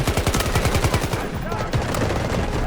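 Delta Force gunfire: a sustained, loud burst of rapid automatic fire with a clear, fast rhythm of repeated shots. The burst dips briefly in the middle and then carries on, close-range over busy game noise.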